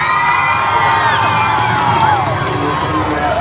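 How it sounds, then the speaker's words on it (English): Speedway crowd at Boyd Speedway during an all-star freestyle night, cheering and whooping in a loud, steady roar of many voices, with a few rising shouts standing out. "So give him a round of applause."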